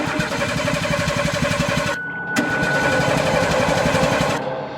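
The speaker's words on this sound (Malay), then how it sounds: "cuba menghidupkan enjin kereta berkali-kali, tapi enjin kereta tak hidup" A car engine cranking repeatedly without starting, as if from a weak battery: a fast, rhythmic chugging that cuts out briefly and then resumes.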